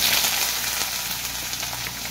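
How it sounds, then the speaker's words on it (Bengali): Chopped onion frying lightly in hot oil on top of deeply browned garlic for cauliflower chops, a steady close sizzle with a bright hiss that holds evenly throughout, with no voices. "সাথে পেঁয়াজ কুচিটাকেও ভেজে নিলাম হালকা হালকা করে"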